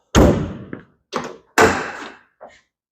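Drop-down compartment door on an Altec AT37G bucket truck mounted on a Ram 5500, closing with a loud, close metallic thunk and slam, then a second shutting thud with lighter latch clicks between and after.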